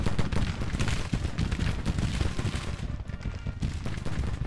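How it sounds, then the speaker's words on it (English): Dense, continuous artillery and gunfire roar from a Grand Tactician: The Civil War battle at the Potomac River, booming blasts overlapping into a steady loud barrage for the whole stretch. "Artillery, I need you to open up now."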